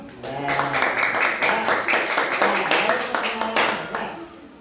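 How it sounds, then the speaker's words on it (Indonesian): Children in a classroom clap their hands in an uneven burst of rapid claps lasting several seconds, with voices talking over the clapping. "Tepuk tangan dulu ya, tepuk tangan dulu."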